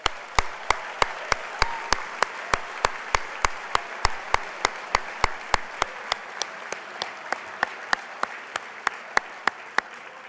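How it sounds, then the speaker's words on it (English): A banquet audience claps for about ten seconds in a steady stream of sharp, evenly spaced claps that are moderately loud and close, while a quiet murmur sits underneath. "let's give them a round of applause."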